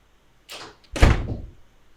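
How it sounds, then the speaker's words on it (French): A door in a horror short film swings and shuts, a soft swishing movement followed by a heavy, close thud that quickly fades, with no voices. "Il y a un problème avec la fermeture de la porte."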